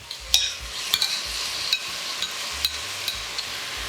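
Tofu and broccoli stir-fried in a pan with chilies, a soft sizzle under repeated sharp clacks and scrapes of a utensil against the pan, close and without talking.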